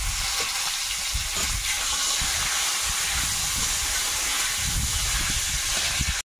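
Whole cumin seeds and bay leaf sizzle in hot oil in a wok, a continuous loud hiss with light crackling that runs evenly before cutting off abruptly at the end.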